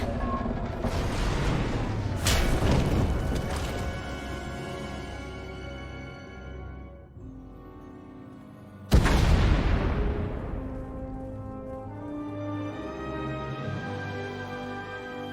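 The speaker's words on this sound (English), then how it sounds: "We heard explosions." Heavy booming blasts roll out in a dense cluster in the video game Star Wars: Knights of the Eternal Throne, fade, then a second loud explosion hits sharply and rumbles on amid game-like effects.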